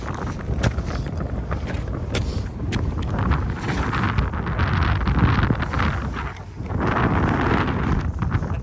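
Strong, direct wind roars steadily across a frozen lake, North America's largest, with loud, continuous gusting buffeting close by and no voices.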